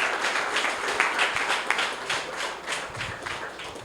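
Church congregation clapping hands in praise, a lively, uneven patter of many hands close by, with brief rhythmic pulses and no talking.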